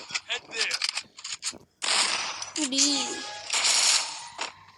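Rapid gunfire bursts from the mobile battle game Free Fire in a ranked clash match, sharp repeated shots and mechanical clatter in clustered volleys, fairly loud with brief gaps between bursts.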